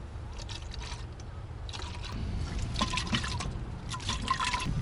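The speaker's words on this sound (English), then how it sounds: "I'll also put some antifreeze in there and switch it around just to get it all out of there" Antifreeze sloshing and trickling inside a plastic jug as it is swirled to rinse out the last drops, a steady soft liquid wash that grows slightly louder partway through, close by with no talk.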